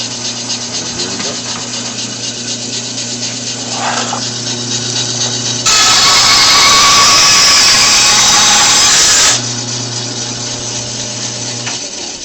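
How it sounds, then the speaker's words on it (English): Craftsman 12-inch two-speed tilt-head bandsaw, 1-1/8 hp, cutting wood with the head tilted 20 degrees and a 30-degree miter: a loud, steady blade-through-wood roar of about four seconds rises over the motor's hum, then drops back to the idle drone. "I'm just going to go ahead and do a cut here. So 20 degrees tilt head and 30 degrees miter cut."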